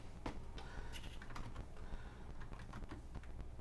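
Rapid keystrokes on a computer keyboard while entering text into a laser cutter's design software, a steady run of close, crisp clicks over a low background hum.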